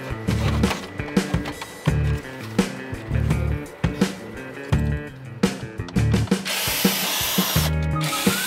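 A power tool zips out bolts from the audio cover of a 2006 Hyundai Grandeur TG, whirring in short repeated bursts with ratcheting clicks and clanks, loud and close.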